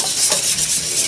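Six large eggs being beaten in a large bowl, a steady continuous whisking and stirring swirl, close and fairly loud, with no talk.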